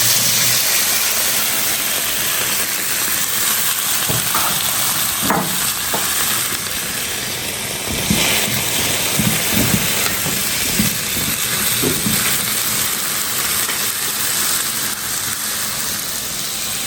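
About three potatoes, roughly a quarter kilo, frying in hot mustard oil for an aloo sabzi, a loud continuous sizzle and hiss with occasional crackles and stirring, close and steady throughout.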